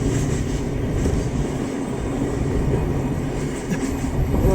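A train rolls across the Farakka Barrage bridge in a loud, unbroken rumble and rattle of wagons, with rhythmic clatter from the wheels on the rails and no voices.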